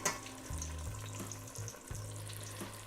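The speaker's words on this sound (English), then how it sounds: "Let them fry for about 2 to 3 minutes with the cut side facing down." Quiet, steady sizzling and crackling of a cut onion frying cut side down in hot grease for a bloomin' onion, with soft clinks and a low hum underneath.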